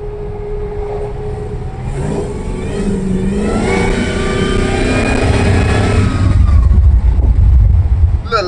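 An LSA supercharged engine in an old donk car cruising down the road, revving up in a rising, loud close growl, with a deep low rumble building toward the end and no talking.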